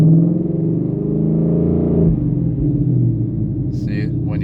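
A 2019 Ford Mustang GT's engine is given a little gas, a loud, close, deep rumbling rev that holds steady and then shifts lower, with a brief voice near the end.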